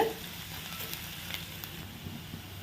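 Onions and curry leaves sauté in a pan toward golden for a chicken roast, a soft, even sizzle held close and low with faint stirring ticks throughout.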